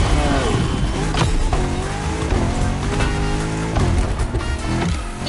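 A Ford car races in The Crew Motorfest driving game, its engine droning loud and continuous with shifting revs and tire squeal, layered under game music and effects.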